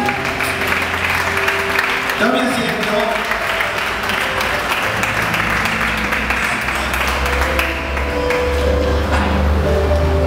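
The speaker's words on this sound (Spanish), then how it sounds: "Dale fuerte el aplauso a ti" A Spanish-speaking church congregation applauds steadily throughout at a fast-fasting service, a broad wash of clapping over low organ-like tones and a sustained musical drone, while a voice briefly speaks over it.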